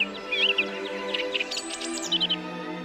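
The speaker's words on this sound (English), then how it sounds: "Of all the sounds found in nature, none has proved as bewitching as birdsong." A songbird sings clear, rapid chirping phrases up close, the bursts repeating over a steady low tonal hum, with no voices.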